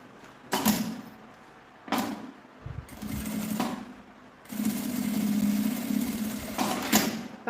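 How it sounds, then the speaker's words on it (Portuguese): A sewing machine runs a seam along printed fabric for a small cosmetic case, whirring in several short bursts of stitching separated by pauses, with one longer steady run, close and clear. "Passa uma costura com o pé de máquina."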